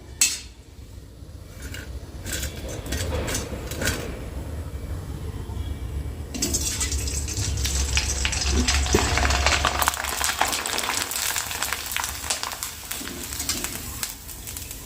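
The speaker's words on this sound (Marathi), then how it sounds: "आता तेल तापले ना आपण आता यामध्ये कोरडई टाकून बघू" Kurdai, sun-dried wheat crisps, are dropped into hot oil and start to sizzle, a broad hiss rising partway through after some quiet clinks of kitchenware. Pigeons coo faintly in the background.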